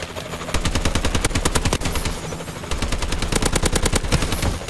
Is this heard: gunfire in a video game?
yes